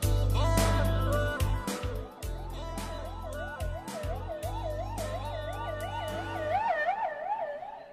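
Emergency vehicle siren wailing in a rapid rising-and-falling cycle, growing clearer and louder toward the end after a stretch of thumping low background sounds.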